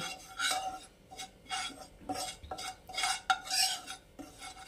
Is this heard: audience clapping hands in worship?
no